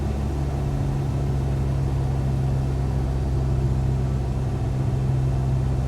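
A Cessna 172 engine drones steadily during a descent with the throttle pulled back, a loud, unbroken low rumble with a constant hum and no pauses, heard from inside the cabin.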